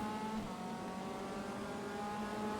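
A race car engine in the AMS MCR Race Cars Championship sim racing game, round at Adelaide, drones steadily at high revs from an onboard view, loud and continuous with no talking.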